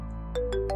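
A phone ringtone for an incoming call sounds in three short electronic bursts in even rhythm, clear and fairly close against a quiet room.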